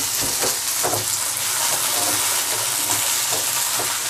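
Onion sautéing in a pan with chili, ginger and garlic, a steady loud sizzle and crackle throughout with faint stirring scrapes, no talking.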